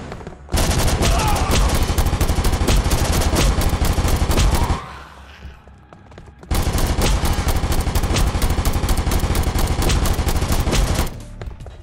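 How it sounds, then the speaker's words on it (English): Sustained assault rifle fire in the BulletSorrow VR shooter: two long, loud, close bursts of rapid automatic shots, separated by a brief lull. "This assault rifle sounds a bit like the pulse rifle from Aliens, a little bit."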